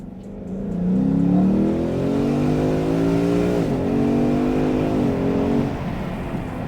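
A Ford Mustang V8 revs up and holds a rising, throaty drone for several seconds, pitch climbing and dipping slightly, loud and fairly close with no talking over it.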